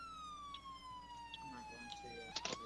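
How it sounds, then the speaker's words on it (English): A police car siren wails steadily with a slowly falling then rising tone, faint and distant, under scattered clicks and background noises. "Turn on your sirens."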